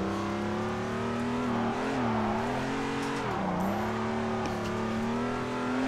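A race car drifting in Assetto Corsa, with a steady engine drone and wavering pitch as the car slides through a corner, tires faintly squealing; loud and constant throughout.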